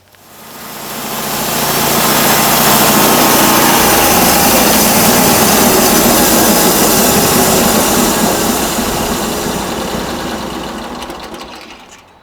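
Engine of a home-built bandmill starting up and running steadily, a loud continuous buzzing drone that rises within a couple of seconds, holds for about ten seconds, then fades slightly near the end, with no talk.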